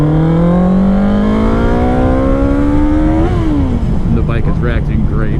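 A motorcycle engine revs up with a rising pitch, peaks, then drops back as the bike pulls away, loud and close with rushing wind noise throughout.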